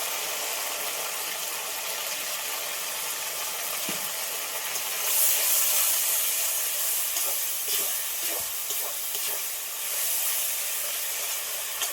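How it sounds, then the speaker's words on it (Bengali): Fish curry gravy boils in a pan with a constant steamy hiss and a few soft bubbling pops, close by and with no voices. "তরকারির ঝোলটা ফুটে উঠেছে"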